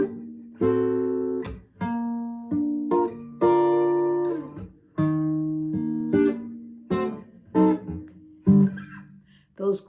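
Guitar strumming a major 7th chord progression, a sequence of sustained ringing chords changing roughly every second, loud and close with no talk over it.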